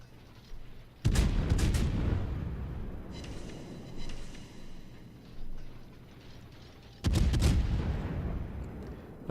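Warship artillery firing in World of Warships, a naval battle game: two heavy booming salvos about six seconds apart, each loud and rumbling, with quieter mechanical clatter and distant thuds in between.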